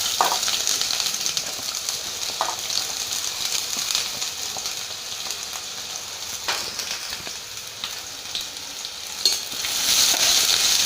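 Two large onions sautéing in melted butter, producing a steady close sizzle with occasional stirring scrapes, and the frying swells louder toward the end.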